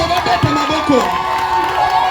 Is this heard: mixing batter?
no